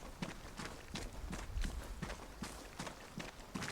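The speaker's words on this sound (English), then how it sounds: "I heard a footstep right in that direction." Footsteps in the video game Vigor, a quick, regular series of soft thuds at an even pace, moderately loud and without talk.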